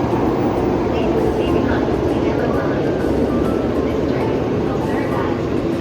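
Interior of a Japanese bullet train (shinkansen), a steady loud broadband rumble and rushing hum filling the carriage without pause.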